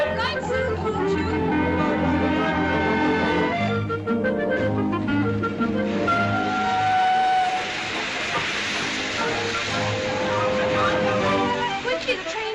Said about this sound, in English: Quickly, the train's here.